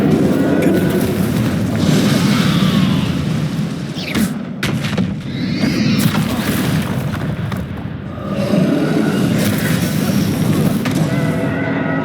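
A fiery Incendio spell cast in the Hogwarts Legacy final quest, heard as a dense roaring rush with dull booms and thuds over a steady low game rumble.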